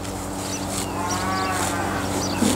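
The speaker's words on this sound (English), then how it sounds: "Pretty amazing tongue to really rasp all that out of the ground. You can probably hear the noise." A cow grazing outdoors on its first day out of the year, tearing and rasping grass from the ground with its tongue in a steady close-up scraping texture over low farmyard background noise, with no talking.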